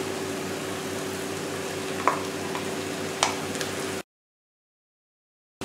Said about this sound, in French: Et maintenant, je vais rajouter le riz.